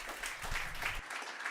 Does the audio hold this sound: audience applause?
yes